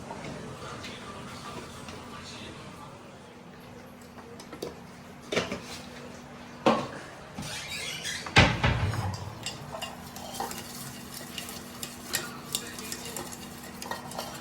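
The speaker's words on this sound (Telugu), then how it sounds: "ఇప్పుడైతే ఆమ్లెట్ వేస్తున్నా స్పైసీ ఆమ్లెట్ వేస్తున్నా" A spicy omelette fries in a pan with a soft, continuous sizzle, broken by occasional scrapes and metallic clinks from stirring, all close and fairly quiet.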